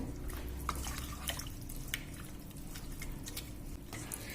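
Pieces of Kerala-style country chicken are mixed by hand with salt, masala and turmeric powder, giving close, wet squishing and dripping sounds over a steady low background hum, with no talking.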